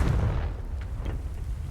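The Confringo fire spell in Hogwarts Legacy, a deep rumbling blast with a low booming tail and a few faint crackles, loud and close, with no talk.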